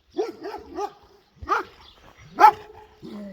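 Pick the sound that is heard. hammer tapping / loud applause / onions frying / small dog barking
small dog barking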